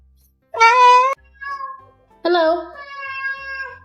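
A cat meowing loudly and close up, two drawn-out vocal calls separated by a short pause, with a softer chirp between them in a quiet room.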